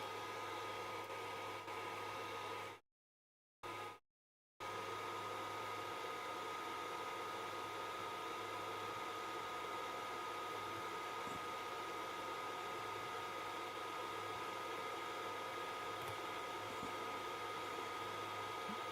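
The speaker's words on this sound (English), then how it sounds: "let's get the fan on here" A small fan runs steadily on a soldering workbench, giving a continuous broadband whir with a low hum that holds evenly throughout, broken only by two brief dropouts near the start.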